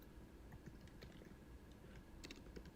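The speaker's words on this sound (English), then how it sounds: "We hear you typing." Someone types on a computer keyboard during a live online call: quick, irregular key clicks, faint and thin, with no voices over them.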